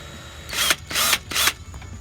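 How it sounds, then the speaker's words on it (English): A power drill drives a screw into foam armor to press in rivet details, three short high whirring bursts in quick succession, close and loud against a quiet room. "Take a screw like this one and put it in a drill and drill forward."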